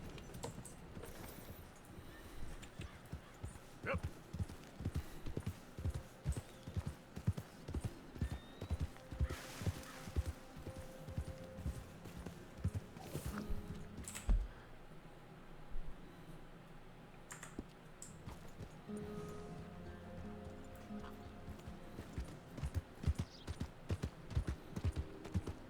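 Horse hooves clip-clop in Red Dead Redemption 2, a steady rhythmic trot of close, crisp hoofbeats running for most of the stretch, with a few louder knocks and a brief quieter gap midway.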